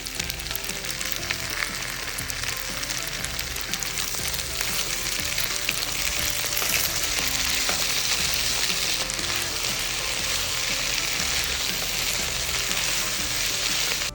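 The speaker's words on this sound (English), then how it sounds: "Now we're going to add in the cherry tomatoes." Cherry tomatoes frying in a hot oiled pan for a pasta dish, giving a continuous, even crackling sizzle throughout with no talking.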